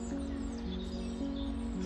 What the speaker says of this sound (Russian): хочу вам дать послушать пение птиц.